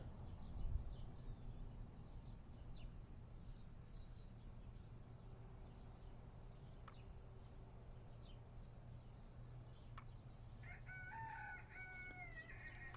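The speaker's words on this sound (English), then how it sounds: "kooky rooster." A rooster crows once near the end, a clear, distant cock-a-doodle-doo rising over a quiet low hum and faint background sounds, with no one talking.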